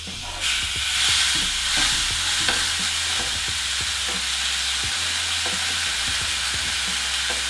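A burger patty sizzles and crackles steadily on a hot contact grill, a dense, even frying hiss with scattered small pops and faint stirring clicks, close and fairly loud throughout.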